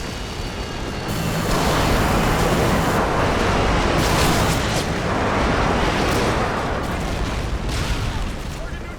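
Airstrike explosions in the Call of Duty Modern Warfare 2 video game, a loud, continuous barrage of rumbling blasts that swells after the first second and stays dense and roaring to the end.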